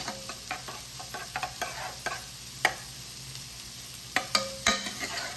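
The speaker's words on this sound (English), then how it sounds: "Let's give this a stir and mix up our crab meat in there" Crab meat and shrimp stirred into a simmering lobster bisque, soft irregular spoon clinks and scrapes over a faint sizzle, with no voices.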